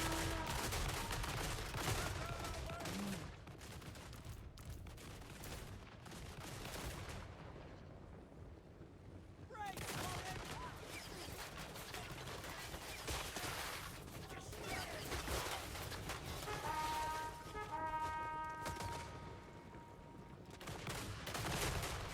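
Musket volleys crackle in Total War Warhammer 3, dense bursts of gunfire and booming shots rolling across a battlefield throughout, with loud stretches, brief lulls, and some talk mixed in.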